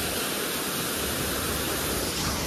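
A heavily flowing waterfall gives a constant, dense roar of falling water that fills the scene evenly, with no breaks and no voices heard.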